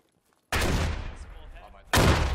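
Gunfire traded across the map in the video game Squad, two loud heavy blasts or volleys after a near-silent start, each trailing into a long rumbling decay.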